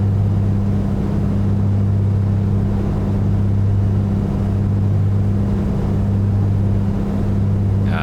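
The engine of a Piper PA-24 in MSFS 2024 drones steadily and loudly, a constant low hum with strong tonal bands and no clear change in pitch, heard on its own.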